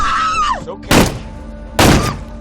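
Bullets striking a car in a film sniper scene, two sharp heavy metallic impacts spaced about a second apart, with no gunshot heard, following a brief falling whistle-like tone.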